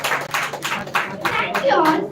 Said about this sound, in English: great big applause for them